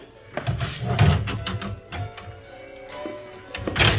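A phone booth door bangs and rattles shut with several knocks and thuds, close and fairly loud, followed by a brief clatter.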